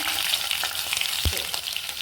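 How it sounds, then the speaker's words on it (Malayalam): Onions dropped into hot ghee for chicken mandi, a steady loud sizzle with a brief thump near the middle as they hit the pan. "അപ്പോൾ ഇത് ചൂടായ പാട് ഉള്ളി ഇടാം."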